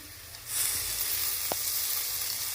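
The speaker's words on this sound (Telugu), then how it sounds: "ఇప్పుడు కరివేపాకు వేసుకోవాలి. ఇది కొంచెం ఆయిల్లో మగ్గనివ్వాలి." Curry leaves drop into hot oil for a coconut vegetable pulao, setting off a sudden loud, bright sizzle that holds steady with a brief sharp pop partway through; no one speaks.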